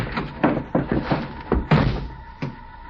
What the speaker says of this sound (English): Slammed the door shut, got in alongside of me.